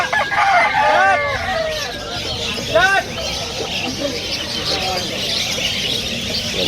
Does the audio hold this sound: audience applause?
no